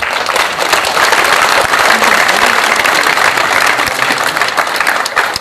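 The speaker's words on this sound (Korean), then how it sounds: "박수로 여러분 환영해 주시면 고맙겠습니다" Audience at a memorial ceremony in a hall at Seoul National Cemetery claps in a loud, continuous wash of applause lasting the whole stretch, with no talking over it.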